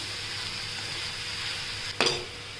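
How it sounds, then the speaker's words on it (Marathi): Grated carrot fries in ghee with a steady, close sizzle, and a short metallic scrape of a spoon against the pan rings out near the end. "आता या तुपातच आपण हे गाजर किसून घेतले ते टाकूया"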